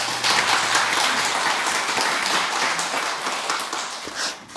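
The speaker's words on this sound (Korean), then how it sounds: "우리 두 분께 박수 한번 쳐주십시오." A church congregation at a Sunday worship service in Bucheon applauds two singers, a thick, continuous clapping from many hands filling the room, fairly loud and even before tapering slightly at the end.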